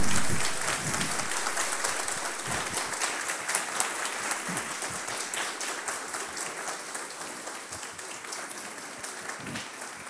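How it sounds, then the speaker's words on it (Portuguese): A crowd at a closing ceremony in Brazil's Câmara gives a round of applause for contracted support staff, a dense burst of clapping that starts strong and gradually thins and fades over ten seconds. "eu queria que vocês dessem uma salva de palmas para os nossos companheiros terceirizados"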